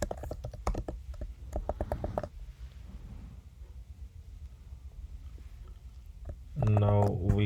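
Keystrokes on a computer keyboard while entering a form field for a Laravel e-commerce site, a quick rattling burst of clicks up front, then a quiet stretch and a louder tonal sound near the end.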